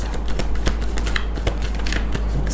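Tarot cards shuffled by hand, a steady run of close, crisp riffling flicks with no talking.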